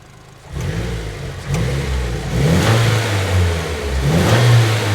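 A Nissan S15 Silvia Spec R engine rises from idle into repeated revs, the roar swelling and easing and climbing again, loud and close.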